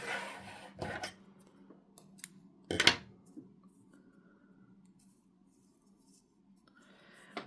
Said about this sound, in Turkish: Bir zincir yaptıktan sonra da ipi keselim.